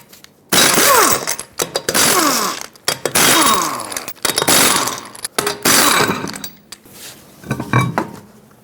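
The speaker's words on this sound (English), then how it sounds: "Now you can use a 21mm socket and remove all 5 lug nuts and then pull the wheel off." A ratchet with a 21mm socket spins off the lug nuts on a 2012-2018 Nissan Altima rear wheel, with loud, close bursts of rapid clicking separated by short pauses, metallic clinks and handling noises between the runs.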